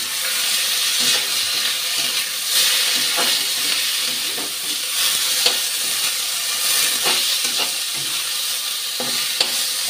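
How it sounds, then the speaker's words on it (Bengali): Gobindobhog rice fries in hot oil in a pan, giving a steady close sizzle and hiss with intermittent scraping stirs throughout and no voices. "তেলটা গরম হয়ে গেছে, এখন গোবিন্দভোগ চালটা ভেজে নিচ্ছি।"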